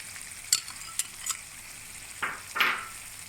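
Almonds and other nuts being stirred into egg halwa as it fries in a pan, heard as a few soft, scattered scrapes of a spoon against the pan over a faint, steady sizzle.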